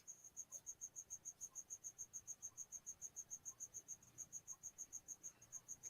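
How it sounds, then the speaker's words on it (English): A single cricket chirps in a fast, even rhythm, faint and steady against a quiet night background. "I'm just sitting here listening to the cricket."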